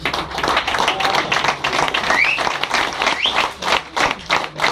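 An indoor meeting audience claps loudly and continuously, a dense rattle of many hands with uneven swells and no pauses, close to the listener.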